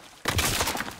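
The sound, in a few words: sniper rifle gunfire in video game Call of Duty: WWII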